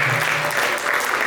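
An audience at a book signing conference in Yaoundé claps steadily, a dense, even wash of applause from a roomful of people throughout the short moment.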